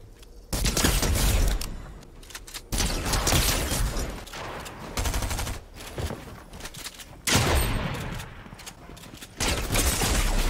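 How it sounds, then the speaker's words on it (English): Sustained bursts of Fortnite gunfire come in several loud volleys separated by brief lulls, dense and crackling, with rapid shots layered over each other through roughly ten seconds. "Someone's shooting on height."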